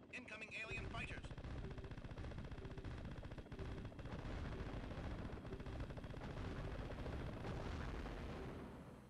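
Rapid gunfire and explosions from a retro PC space shooter with incoming alien fighters, played on a Voodoo 2 graphics card in a K6-2 machine, forming a dense, loud, continuous barrage with no pauses.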